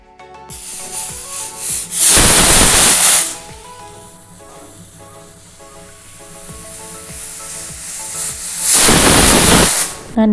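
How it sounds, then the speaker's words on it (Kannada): A pressure cooker with onion pongal inside lets out two loud, sustained hissing whistles of steam, one early and one near the end, separated by a quieter stretch of simmering. "ನಾನಿಲ್ಲಿ 2 ವಿಷಲ್ಸ್ ಮಾಡಿಸ್ಕೊಳ್ತಿದ್ದೀನಿ"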